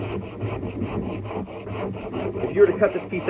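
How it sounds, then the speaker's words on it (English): Close, continuous rough rasping as a wood piece for a DIY boat build is ground down, with a steady rhythmic scraping that turns slightly harsher and more uneven near the end, and no talk. "So we're going to grind this."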